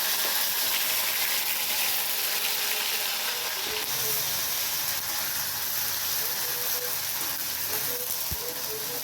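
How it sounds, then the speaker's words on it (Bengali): Potato chops, Bengali croquettes, frying in hot oil give a steady, close sizzle and hiss that runs unbroken throughout, with no voices. "দেখো চপ ভাজা এখন চলছে"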